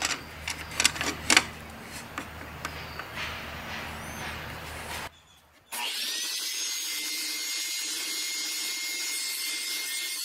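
A saw blade cuts through scrap plywood with a rough, steady rasp and a few sharper knocks, then drops out briefly before a continuous even machine whine and hum takes over.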